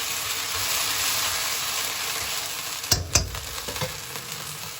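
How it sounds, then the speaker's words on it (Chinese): Fried pork sizzles in a sweet-sour sauce in a wok, a dense steady crackling hiss with a few louder stirring clatters partway through. "下入咱们炸好的小肉"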